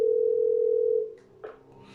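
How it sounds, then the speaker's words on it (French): A steady telephone dial tone from the PlayStation game Parasite Eve 2 holds for about a second, then cuts off, followed by quiet ambient hum and a faint click. "Téléphone, il est peut-être relié à l'extérieur."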